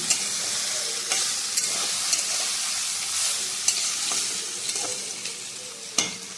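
Water lily stems fry in a pan with a continuous hiss, broken by several sharp knocks and scrapes of a utensil stirring at irregular intervals, close and moderately loud, with no talking.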